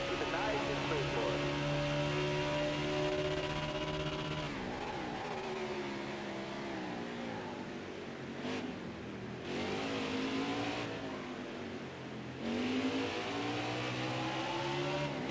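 NASCAR race car engines in NASCAR Heat 5 on the Indy road course, a loud steady high-revving drone that drops and climbs again through shifts and corner exits, with commentary talk running over it.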